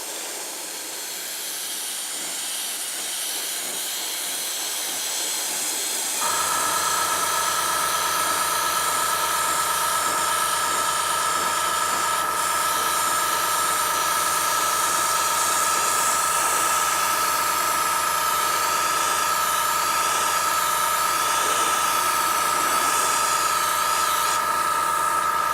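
An airbrush sprays thinned Scale Colors paint, starting with a quiet hiss that jumps to a loud, steady, continuous spray around six seconds in and holds alone to the end.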